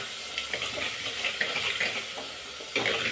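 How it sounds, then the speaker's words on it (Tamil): Tomatoes sautéing in a pan after onions for bitter gourd sambar, giving a steady close sizzle with soft stirring scrapes and a brief louder burst near the end, no talk. "தக்காளியை போட்டு நல்லா வதக்கிக்கலாம்."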